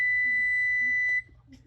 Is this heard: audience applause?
no